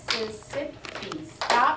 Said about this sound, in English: Well, let's clap first. Let's clap really quick.